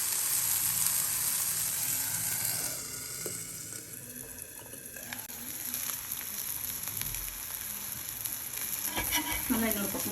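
Vanjaram (seer fish) fillets sizzle steadily in a hot pan, a dense close crackle of oil that eases briefly mid-way and swells again, with a few light clinks of utensil near the end.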